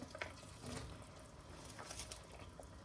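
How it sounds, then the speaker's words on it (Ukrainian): Shredded cabbage is stirred into goulash sauce with stewed meat in a pot, a faint, soft wet churning and squelching close by, with light scraping against the pot and no talking. "І розмішуємо з нашим соусом"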